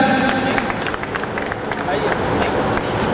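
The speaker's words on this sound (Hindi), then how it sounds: "जोरदार ताली बजाइए सर।" An audience at a school retirement function claps continuously, a dense even patter of many hands heard under a loud voice speaking over a crowd.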